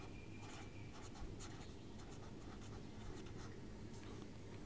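Pen or pencil writing answers into a printed 4th-class maths workbook on large numbers, a steady close scratching of strokes running continuously with no talk.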